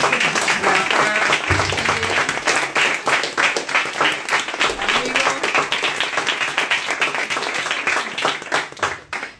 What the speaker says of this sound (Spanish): Así que empezamos por el aplauso.